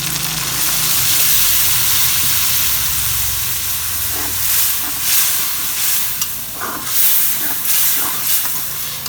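Water poured into spices frying for beef curry over a strong wood fire on Eid, giving a steady loud hiss and sizzle with bursts of steam and some stirring, with no voices.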